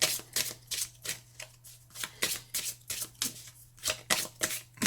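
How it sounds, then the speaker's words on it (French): Tarot cards being shuffled by hand, repeated close riffling bursts in a steady rhythm with short pauses between them, loud and clear over a faint low hum. "Donc on mélange bien et ensuite on choisira les cartes."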